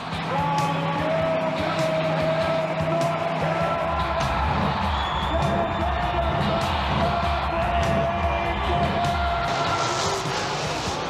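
Gravedigger races at a 1988 TNT Motorsports monster truck show in St. Paul, its engine roaring and droning loudly over a cheering arena crowd throughout.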